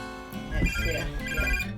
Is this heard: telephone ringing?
yes